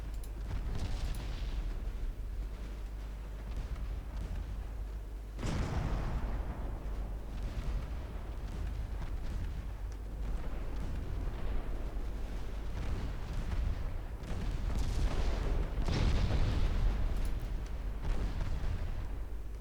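Heavy 11-inch naval guns firing in the video game Ultimate Admiral Dreadnoughts, a continuous deep rumble with several muffled booms and bursts spread throughout.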